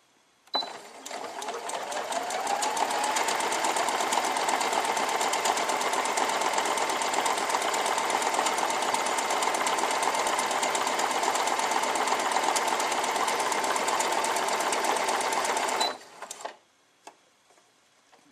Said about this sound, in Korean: 스트레치 바느질, 사선 바느질이라고 합니다